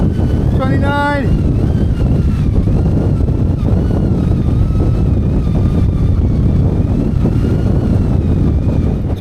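Strong wind gusts buffet the microphone at an exposed campsite, a loud continuous roar throughout with a brief voice-like tonal sound near the start.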